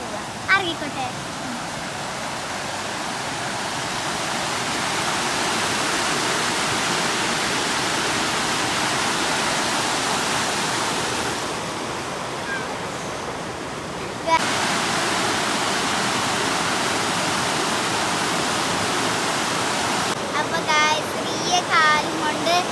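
A waterfall rushes in a continuous loud roar of tumbling water, briefly dropping away and returning, with people talking at times over the noise.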